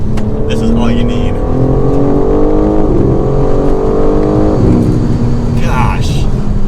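A 2022 BMW M4 Competition xDrive drives hard on a road, its engine rising through gears in loud, close revving sweeps with a shift, heard from inside the cabin and alone without talk.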